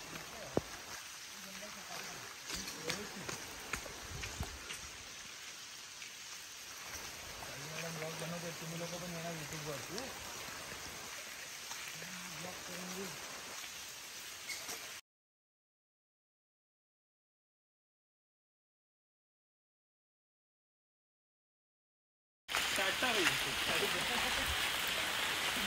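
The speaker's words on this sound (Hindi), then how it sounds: "आला ना आवाज समुद्र का" Sea surf on a Goa beach rolls as a broad, steady wash of noise, with voices talking over it and a stretch of total silence partway through before the roar returns.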